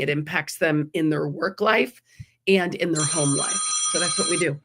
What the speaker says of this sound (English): sorry for the phone ringing there